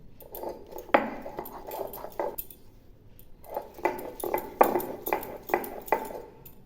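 Green banana peel is ground by hand on a flat grinding stone, producing two runs of rhythmic scraping strokes separated by a short pause, close and moderately loud.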